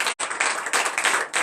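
A church congregation at a morning prayer service in Comè, Benin claps in acclamation with brisk, continuous applause that has a brief break near the start, full and close.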